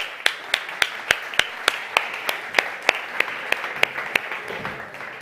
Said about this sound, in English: please give them a very warm applause to these great key players